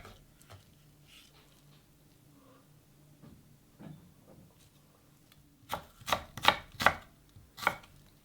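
A knife cuts an onion into thick slices on a cutting board. After a quiet stretch come five or six crisp, close chops in a quick, uneven rhythm.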